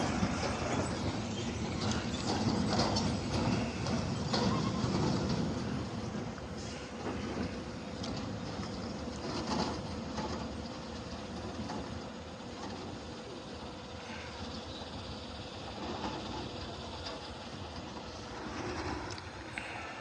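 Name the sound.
Indian train passing slowly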